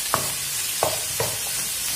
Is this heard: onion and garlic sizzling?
yes